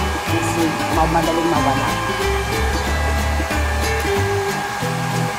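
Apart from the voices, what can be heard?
hair dryer blowing while drying a dog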